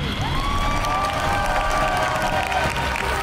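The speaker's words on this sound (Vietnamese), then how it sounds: "Trời ơi, vỗ tay." Crowd applause with cheering at a stadium as a new goalkeeper arrives on a televised show, a dense steady clatter of clapping and shouts with whistle-like tones, continuous and fairly loud throughout.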